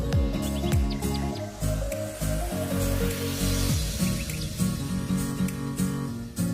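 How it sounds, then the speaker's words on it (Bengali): Two eggs frying in white oil in a frying pan, a continuous sizzling hiss and spitting crackle running under rhythmic background music. "একটা ফ্রাই প্যানে তেল দিয়ে সাদা তেল তাতে দুটো ডিম ভেজে নেবো খুব ভালোভাবে ঝুড়ো ঝুড়ো করে ভেজে নেব"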